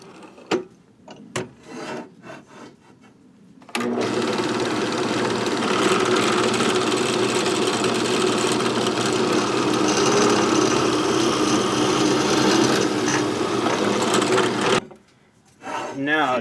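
A power tool bores into a wooden pipe, giving a loud grinding, rasping whir for around eleven seconds, framed by quieter handling and scraping before and after.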